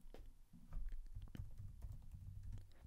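Keys tapped on a computer keyboard while entering a search term into keyword research software, a quiet run of quick irregular clicks lasting a few seconds with no talking.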